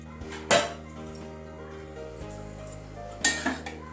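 A metal lid clanks back onto a pot of simmering vegetables, two sharp clattering hits with ringing metal tones between them and a low steady hum underneath.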